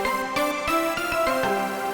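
A bright, metallic synth layered under a sustained lead plays a melodic phrase, with sharp percussive attacks marking each note over a steady harmonic bed, loud and close with no talking.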